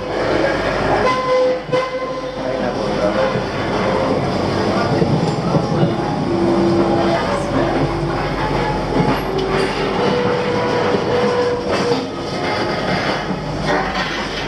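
Passenger train running on the railway from Nha Trang to Saigon, a loud, steady rumble with rhythmic clatter of wheels on track and a drawn-out horn tone, heard close up throughout.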